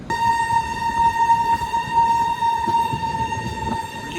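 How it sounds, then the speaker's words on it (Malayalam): A steady, sustained horn tone from the Bihar Sampark Kranti Express holds for several seconds over the rumble of a moving train, loud and continuous. "ഇതിൻ്റെ ഹോൺ നല്ല രസമായിട്ട് കേൾക്കാം കേട്ടോ"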